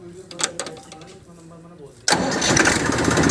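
A 2002 Massey Ferguson 1035 DI tractor engine turns over and fires up abruptly into a loud, steady diesel roar close by, after a brief quiet stretch with someone talking.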